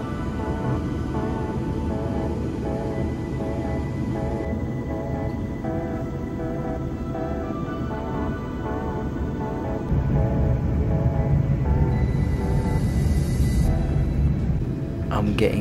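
Steady rumble inside a moving train on the Birmingham to Liverpool line, a continuous low drone with faint tonal hum that grows a little louder toward the end, carrying on alone without talk.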